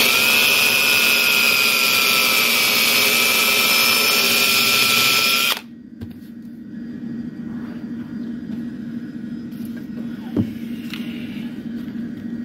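A loud, steady whine of a power drill boring a hole during a snare drum strainer installation, running for several seconds, then cutting off abruptly, leaving a quiet hum and a faint click.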